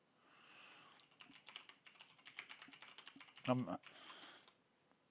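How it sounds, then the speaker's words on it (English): Fast, irregular clicking of computer keyboard keys during a Star Citizen alpha live game session, quiet and close, with a few heavier keystrokes and faint background noise throughout. "I'm typing"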